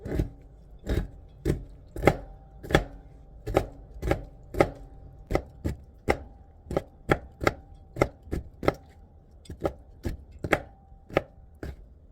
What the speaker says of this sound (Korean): 진미채 자르는 거 같아